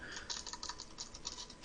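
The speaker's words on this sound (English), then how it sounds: "So I'm just going to type in" Light keystrokes on a computer keyboard tap out a quick, uneven run of clicks, quiet and close, with no voice over them.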